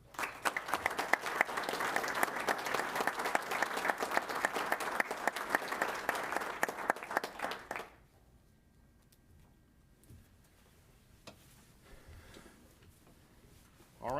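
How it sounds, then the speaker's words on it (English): A city council meeting crowd applauds new firefighters with loud, sustained clapping for about eight seconds, then it stops abruptly into a quiet room. "let's give them another round of applause."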